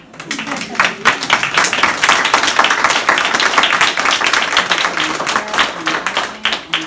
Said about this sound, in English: I think the audience needs to give you all an applause.